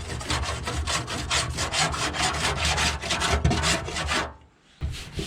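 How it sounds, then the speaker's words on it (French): Steady back-and-forth rasping of a metal rasp across a dented Peugeot 205 GR car body panel during bodywork, loud and continuous strokes for over four seconds, then a brief pause before scraping resumes. "Donc je vais râper avant de poncer et puis je vais regarder ce que je peux faire."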